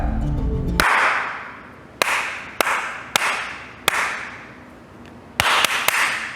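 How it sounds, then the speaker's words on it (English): Sharp hand claps near a sound-activated sensor rig: a loud burst at first, then several single and double claps spaced irregularly across the recording, each with a short room decay, and no speech. "And if I clap"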